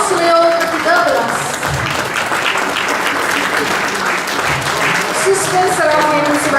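A hall full of people applauding the performers of a Christmas drama, loud unbroken clapping with an emcee talking over it near the start and again toward the end.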